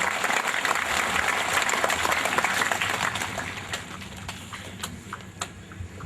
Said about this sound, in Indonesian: menyambutnya dengan tepukan tangan sebagai tanda kegembiraan kita